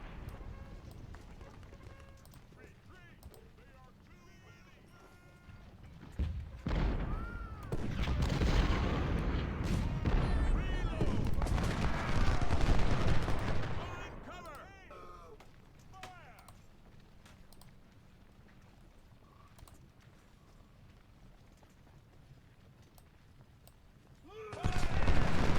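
Twenty-four-pounder cannons firing in the Civil War strategy game Ultimate General, heavy dense volleys of distant booms and crackling gunfire swelling for several seconds amid battle ambience, with someone talking over the quieter stretches.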